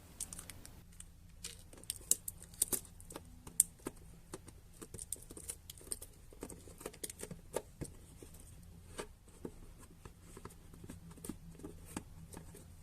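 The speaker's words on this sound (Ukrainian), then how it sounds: "Ліпимо скотч." Adhesive tape being pulled and pressed onto a box, a run of sharp crackling clicks and light rustles at close range, with no voices.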